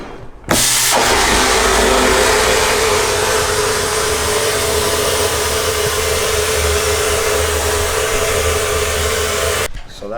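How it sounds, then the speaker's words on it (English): Steady, loud hiss and whir of a paint-stripping tool working over 30-year-old engine parts, starting abruptly, running unbroken for about nine seconds at close range, then cutting off. "So that's just stripping the paint off"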